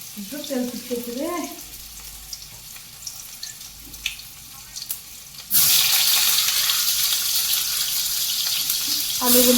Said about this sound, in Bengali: এবার হচ্ছে আলুগুলো ভেজে নেব